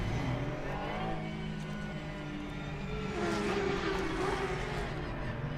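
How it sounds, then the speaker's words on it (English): Race cars in Assetto Corsa Competizione rumble past the pit lane in a continuous, loud engine drone that swells and fades over several seconds with no talking. "just sitting in the pits on ACC and hearing the cars go past"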